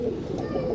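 Andhra line pigeons cooing in a low, continuous murmur, close and steady throughout the short moment with no talk over it.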